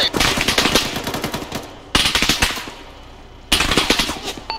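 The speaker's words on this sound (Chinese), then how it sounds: "我们在东方的大楼区遭到敌军机枪压制" Enemy machine gun fire in the military video game ArmA comes in three loud, sustained bursts of rapid shots, each cutting in sharply and tailing off into echoing decay.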